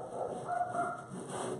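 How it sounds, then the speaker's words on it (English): Dogs barking at a distance in a home while wreath ruffles are being made, a short muffled yapping burst that stays faint behind room noise. "There goes the dogs again. I swear they bark at everything."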